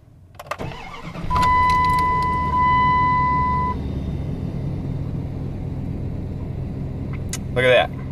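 A car engine cranks and catches, then settles into a loud, steady idle rumble close by, with a brief higher burst near the end.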